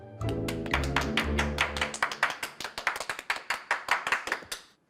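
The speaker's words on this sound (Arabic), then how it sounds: "تصفيق حاد بعد إذنكم." Sparse, distinct hand claps at a stand-up comedy show, a few individual claps in uneven rhythm following a musical sting, fairly close and fading at the end.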